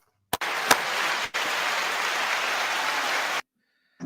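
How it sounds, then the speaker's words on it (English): Applause for a podcast guest, Rick Glaser, arrives as a steady, even wash of clapping that starts abruptly, holds for about three seconds and cuts off cleanly, sounding like a dropped-in sound effect. "Big round of applause for Big Rick Glaser."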